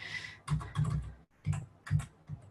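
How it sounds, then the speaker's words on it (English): Keystrokes on a computer keyboard come in short clustered bursts of clicks with brief gaps between, close and fairly quiet, with no voices. "you can just left click it and then start typing"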